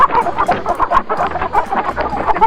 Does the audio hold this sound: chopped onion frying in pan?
no